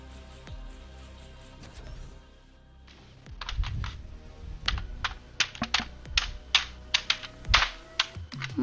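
Fingers typing on a computer keyboard, quiet at first and then building into a run of distinct, close key clacks with irregular spacing and a few sharper strikes.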